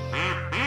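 A small duck quacks twice in quick succession, the calls close and fairly loud, with a steady electronic hum underneath; no talking.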